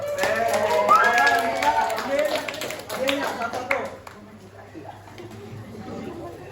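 A junior high school classroom at SMPN 3 Martapura breaks into dense applause from students, loud for about four seconds before fading into quieter murmuring and chatter.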